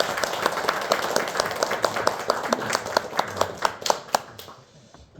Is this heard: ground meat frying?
no